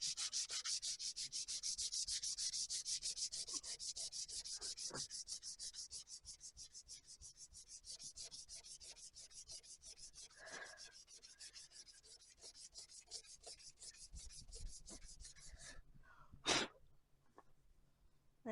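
Rapid, rhythmic rasping strokes of 240 grit sandpaper on a Mazda, close and continuous, slowing slightly toward the end, followed by a sharp sneeze.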